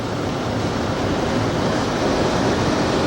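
Choppy ocean waves wash in as a steady broadband roar with some wind noise, loud and continuous.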